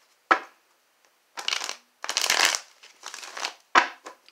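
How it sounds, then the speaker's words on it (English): A deck of tarot cards is shuffled by hand close up, a few short riffling and rustling bursts with quiet gaps between, ending in a couple of sharp slaps. "I need to shuffle these one more time"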